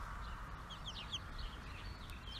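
Chickens and roosters being raised on a farm cluck and call faintly in the distance over a steady low background rumble, with no talking.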